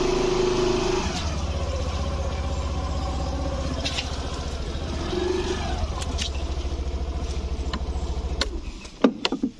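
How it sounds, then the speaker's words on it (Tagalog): A motorcycle is brought out at a small shop, its engine idling with a steady low rumble that swells briefly as it revs, then fades and ends in a few scraping clatters. "Ilabas na natin guys yung motor."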